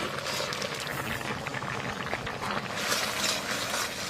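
Dal (lentils) boiling in a pot for a vegetable dal, a dense, close bubbling and churning that goes on steadily with small surges.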